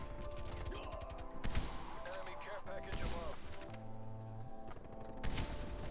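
Rapid gunfire from a video game shooter crackles in repeated bursts over a constant, busy game soundscape of mechanical whirs and impacts. A voice can be heard speaking faintly beneath the shots.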